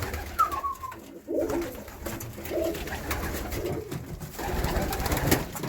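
Ornamental pigeons cooing in a breeder's loft in Szczecin, soft repeated coos over a busy background of rustling and fluttering, fairly close with no talking.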